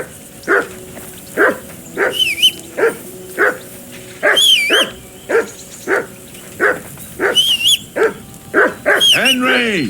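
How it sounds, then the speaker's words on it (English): A dog in the game Kingdom Come: Deliverance II barks again and again, loud and close, in a fairly regular rhythm, while a voice speaks between and over the barks. "Henry, whistle at that mutt of yours to stop barking."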